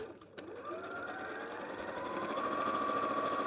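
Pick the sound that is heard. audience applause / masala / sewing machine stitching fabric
sewing machine stitching fabric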